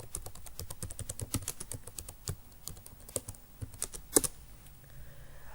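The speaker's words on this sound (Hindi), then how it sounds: "यहाँ पर हम कुछ टाइप कर लेते हैं।" Fingers typing on a computer keyboard in a word processor, quick irregular clicks with a few louder keystrokes near the end, close and steady with no voices.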